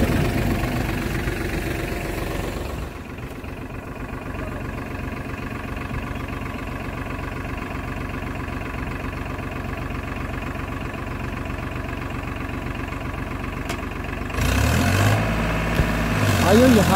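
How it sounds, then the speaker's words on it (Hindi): A Farmtrac tractor works back and forth through mud, its engine droning steadily and close by, then rising in a rougher burst near the end. "यहाँ पे आप देख रहे हैं कि ट्रैक्टर को पूरी तरीके से पूरे तरीके से आगे पीछे करना पड़ रहा था"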